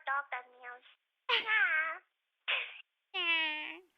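A person imitates a cat, giving four separate meows in a row, the second and last drawn out and wavering, clear and close with no other sound between them.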